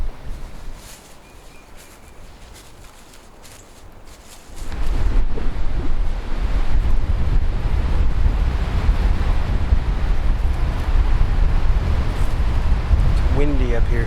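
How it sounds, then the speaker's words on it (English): Strong wind roars and buffets the microphone on high ground in Tennessee, quieter at first and then surging into a constant heavy rumble with gusty texture. "It's windy up here."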